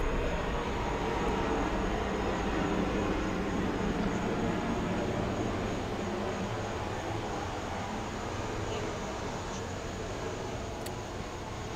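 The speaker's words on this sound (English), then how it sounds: "You got some planes flying over?" Aircraft passing overhead make a steady, fairly loud roar that fills the whole stretch without a break, holding an even level with no voices over it.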